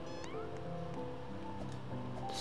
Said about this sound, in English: I'm hearing like meowing